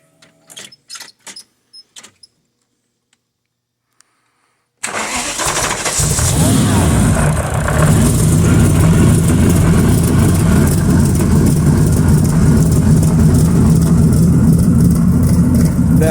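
A supercharged BMW-powered T-bucket engine cranks and catches after a few faint clicks and rattles, then settles into a loud, steady, loping idle close by, with no talk over it.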